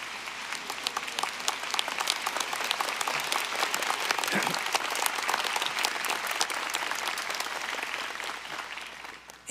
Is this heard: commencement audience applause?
yes